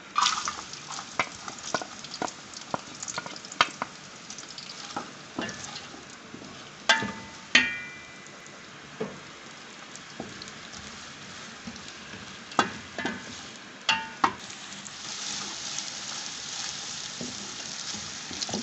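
Onions frying in roughly a cup of oil in a pot for mutton keema macaroni: a soft, steady sizzle punctuated by scattered spoon taps and scrapes against the pot, moderately quiet, with no speech.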